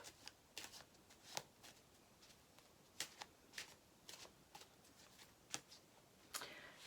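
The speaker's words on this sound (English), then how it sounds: "I'm just shuffling my deck here right now" A tarot deck is shuffled by hand in a quiet room, giving soft repeated riffling snaps and papery flutters in an uneven rhythm, faint and close.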